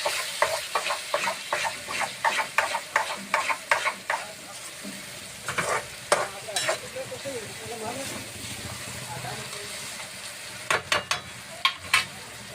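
A spoon scrapes rhythmically against a pan of eggplant curry over a constant sizzle, with repeated stirring strokes, a pause, then a few more at the end; a voice talks briefly.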